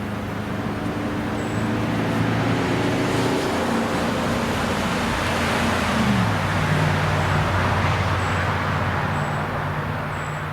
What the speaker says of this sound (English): We got a vehicle coming.